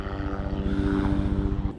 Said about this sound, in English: We got a helicopter coming.